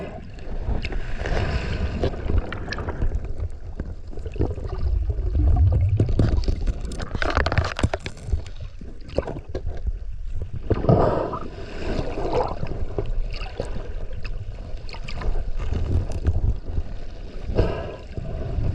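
A small boat cruises across open water off the Chatham Islands, with a constant rumbling engine and hull wash mixed with buffeting wind noise on the microphone, loud and close throughout.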